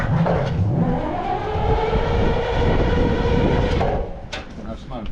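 A Rolls-Royce diesel turbo engine, started after long-idle batteries, runs loud and close with a deep rumbling drone that swells under the throttle and then drops off near the end, while a voice is heard over it.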